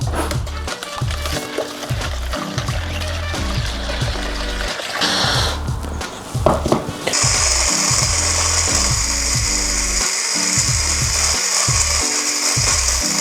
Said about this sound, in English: I found a whisk, an electric whisk.